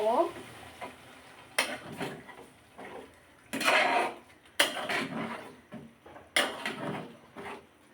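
Sizzling pan of chana dal with bursts of hissing as water is added, several loud steam surges between quieter stirring and utensil clatter.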